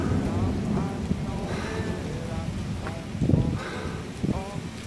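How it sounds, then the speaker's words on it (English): Heavy rain during a thunderstorm pours steadily in a dense, continuous hiss with occasional low rumbles, while a person talks close by over it. "I don't know if you can see how hectic this rain is."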